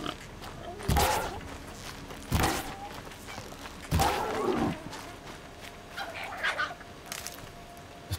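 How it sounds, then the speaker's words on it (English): Turkeys gobbling in the video game Horizon Zero Dawn, heard as a few loud separate calls spaced a second or so apart, with fainter bird-like calls between them over a steady game background. "The turkeys are making a lot of noise."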